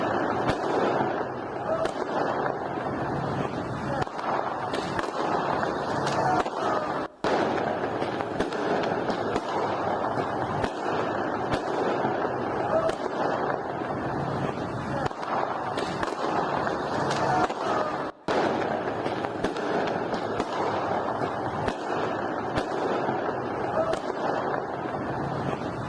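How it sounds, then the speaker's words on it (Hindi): Firecrackers crackle and pop continuously at a street celebration in Iran, a dense, loud barrage of rapid bursts with wind-like rumble and only a couple of brief gaps. "ईरान में देखिए पटाखे फूट रहे"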